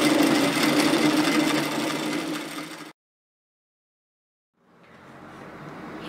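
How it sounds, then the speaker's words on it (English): A sewing machine runs a fast, steady stitch along a robe seam for about three seconds, stops abruptly, then starts up again toward the end; nobody speaks. "I'm just going to sew it from one side to the other"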